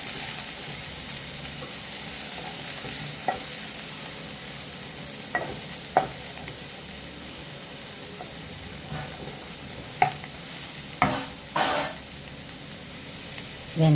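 Sliced onions sauté in hot oil with cinnamon, clove, fennel and curry leaves in a kadai, a steady soft sizzle with occasional scraping stirs and clinks of a spoon against the pan.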